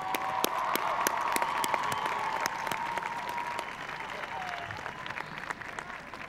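Graduates at a university commencement ceremony applaud their families in a sustained wash of crowd clapping, sharp claps standing out over a steady murmur and a faint tonal hum, slowly fading toward the end.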